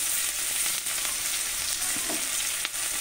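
Onions fry in oil for a Bengali boal fish curry, a continuous close sizzle with faint stirring knocks, no one talking.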